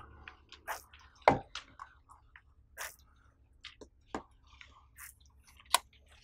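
A squeegee drawing water down a window in straight pulls, giving scattered close squeaks, squelches and wet drips at irregular intervals over a quiet background.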